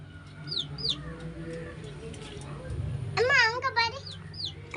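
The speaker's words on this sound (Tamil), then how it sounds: "கோழி குஞ்சு ஒன்றைய தேடுது பாரு." A hen clucks nearby while searching for a chick, a quick burst of sharp, rising calls toward the end, with scattered chirps and quiet voices talking around it.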